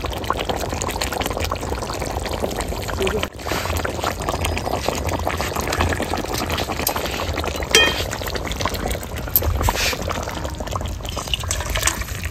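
Cooked food being poured out of a wok-like kadai in a home kitchen, a steady liquid sloshing and pouring sound with faint clinks that runs for about twelve seconds, with no talking.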